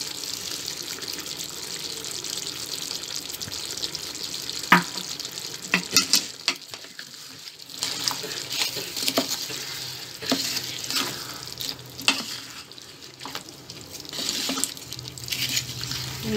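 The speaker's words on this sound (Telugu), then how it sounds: "ఇలాచి పౌడర్ సాల్ట్ వేసుకొని బాగా కలపాలి." Pumpkin halwa with cardamom powder and salt is stirred in a pan, with scattered spoon clinks and scrapes over a soft, steady sizzling hiss.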